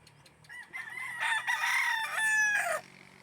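A gamefowl rooster crowing at a game farm, one loud rising and falling crow close by, with other birds faintly in the background.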